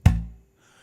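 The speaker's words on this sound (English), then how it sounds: "Whereas the slap should sound like this" A single left-hand slap on a bass guitar fretboard gives one short, percussive low thump that decays quickly into silence, close and alone.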